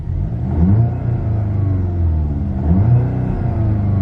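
A 2021 VW Golf GTI Mk8 in sport mode, warmed up, revs loudly from inside the cabin, its engine note rising and falling twice in a close, full-throated surge.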